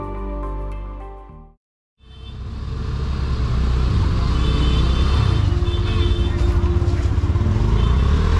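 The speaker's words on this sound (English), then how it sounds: "we're going back on the motorbike again" A motorbike rides a mountain road on the Ha Giang Loop, its engine rumbling loud and steady with heavy wind buffeting after a brief cut, preceded by a short burst of other sound.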